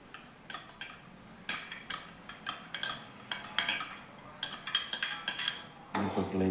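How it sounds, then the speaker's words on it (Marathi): Cooked barnyard millet (bhagar) being stirred in a pot, a spoon scraping and clinking against the metal in quick irregular strokes, close and fairly loud throughout, with no talk. "बघा आता आपण भगर व्यवस्थित हलवून घेऊन झाकून ठेवणार आहे"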